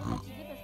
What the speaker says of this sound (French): Petit cochon.